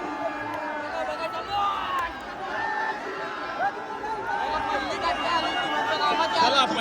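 A crowd celebrates at the Rayba Devi yatra, a village religious fair, with dense overlapping chatter, shouts and cheering at a steady, lively level throughout.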